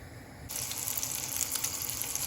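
Chicken gizzard cutlet frying in sunflower oil in a hot pan, a steady close sizzle that starts abruptly and continues with crackling pops.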